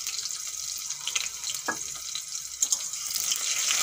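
Sugar dropped into hot cooking oil for an egg curry gives a steady close sizzle and crackle, with a couple of brief louder spatters standing out from the hiss.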